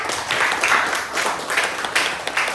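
A high school class claps for a student in a classroom, a moderately loud burst of applause from a group, uneven and rippling in waves.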